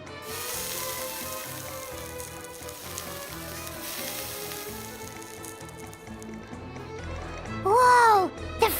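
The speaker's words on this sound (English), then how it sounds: "It's great for fish because you can get a nice sear on one side without overcooking the other." Fish searing in a cooking video game, a steady loud sizzle and frying hiss running throughout over background music, with a brief swell near the end.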